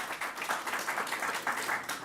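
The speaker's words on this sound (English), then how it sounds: "Let's give Mayor Byron Brown a big round of applause." An audience claps steadily in applause for Mayor Byron Brown at a government press event, a continuous, moderately loud patter of hands.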